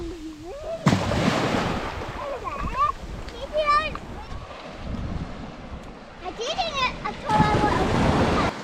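Waves wash and splash onto a beach on Australia's coast near Memory Cove under steady wind noise buffeting the microphone, with voices and children's calls mixed over the surf throughout.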